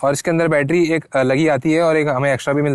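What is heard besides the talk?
No everyday noises stand out.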